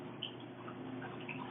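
An acrylic paintbrush is rinsed in a cup of water, giving faint, soft drips and swishes over a steady low background hiss.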